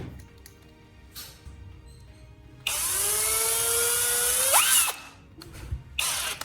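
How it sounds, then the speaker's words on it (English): A cordless drill with a bare battery chucked in it whirs up to speed for about two seconds, loud and close, then winds down; quieter handling noises come before and after. "I chuck the bare battery right into my cordless drill."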